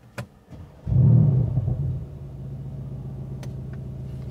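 A 2020 Mercedes-AMG C63 S Coupé facelift with V8 exhaust in its loudest mode starts up with a sharp, loud bark that settles into a deep, steady idle rumble, close by.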